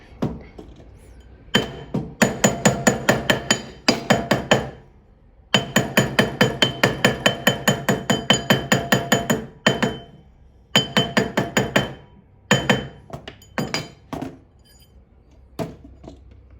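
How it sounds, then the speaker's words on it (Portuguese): An iron hammer taps a metal jewelry ring, likely a half-eternity band being set with stones at a jeweler's bench. It gives bright, ringing metallic strikes in quick rhythmic bursts separated by short pauses, close and loud with no talk. "com o martelo de ferro agora"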